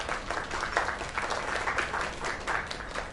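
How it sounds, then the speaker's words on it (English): Steady applause from a crowd, continuous clapping at an even level throughout, with no voices rising above it. "Another round of applause."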